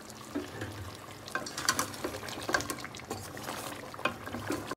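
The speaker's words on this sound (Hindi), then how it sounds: "फिर आपने इसे कवर अप करके पकाना है सिर्फ 10 से 15 मिनट के लिए" Chicken korma made with yogurt simmers covered in a pot, giving a low, steady bubbling sizzle. Soft liquid pops and stirring-like scrapes rise and fall at moderate volume.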